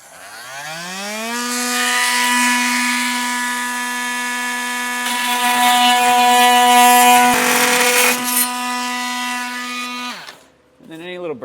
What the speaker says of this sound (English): with my multi-tool, I am going to just cut out this little piece of our plastic bumper support right here